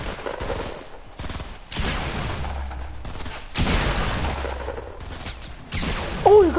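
Fortnite gunfire comes in repeated rapid bursts of loud shots, separated by short gaps, with a brief whooshing sound near the end.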